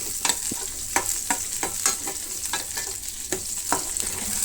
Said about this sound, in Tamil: நான் ஒரு 15 சின்ன வெங்காயத்தை உரிச்சு வச்சுருக்கேன். அது இதில் சேர்த்துக்கிறேன். சேர்த்து இந்த எண்ணெயிலே நல்லா வதக்கிக்கணும்.